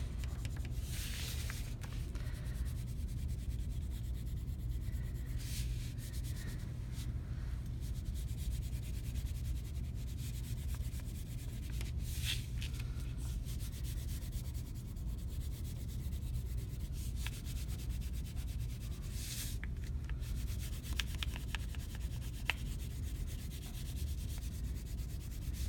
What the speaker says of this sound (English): So when I outline, I want to go all the way around the outside edge with my crayon.